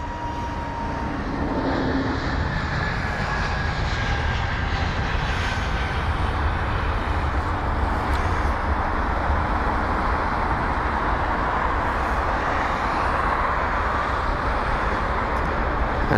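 Air Malta Airbus A320neo taking off from runway 27R at London Heathrow: a steady, loud broadband jet engine roar that holds for the whole stretch, with no voices over it.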